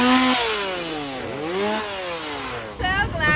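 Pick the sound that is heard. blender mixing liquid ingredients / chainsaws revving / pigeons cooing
chainsaws revving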